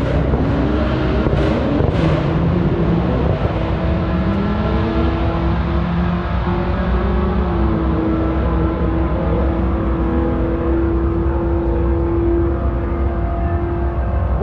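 A supercharged 2017 Ford Mustang S550 with a 5.0 engine and Whipple blower, making about 750 horsepower, idles and runs steadily up close, with a loud continuous engine drone and a brief rev near the start.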